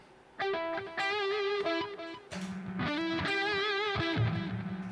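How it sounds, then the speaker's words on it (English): An electric guitar played through a Swollen Pickle fuzz distortion pedal rings out in a few thick, buzzy sustained chords and notes, loud and alone with no talking. "Any distortion pedal especially. It's a type of distortion, right? The fuzz."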